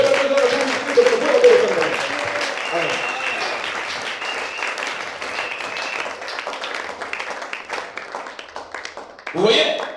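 A church congregation applauds and cheers for the Lord during a Sunday service, dense sustained clapping with voices calling out, loud and close, fading slightly before a brief swell near the end.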